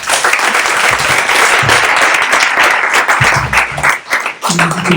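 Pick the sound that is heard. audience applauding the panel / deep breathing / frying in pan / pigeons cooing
audience applauding the panel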